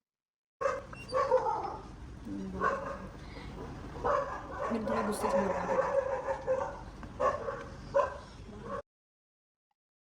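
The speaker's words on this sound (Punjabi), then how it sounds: "ਬਾਹਰ ਜਿਹੜੇ ਕੁੱਤੇ ਭੌਂਕਦੇ ਪਏ ਆ" Dogs barking outside, heard as intermittent barks and yips at a moderate distance, mixed under a heated conversation between people indoors throughout.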